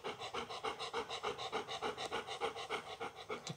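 A dog pants heavily and rapidly in a quick, even rhythm of short breaths, close and fairly quiet, continuing without pause.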